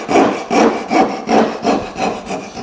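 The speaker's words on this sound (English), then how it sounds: "now I'm just sawing out those chunks between these pins" A hand saw cuts wood between dovetail pins for a hanging cabinet, six steady back-and-forth rasping strokes close up, evenly paced with no talk.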